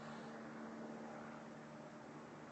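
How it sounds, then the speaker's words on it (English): Airplanes fly overhead with a steady, broad droning roar and a low engine hum, continuous and fairly faint, with no talking. "planes flying over, so excuse the noise"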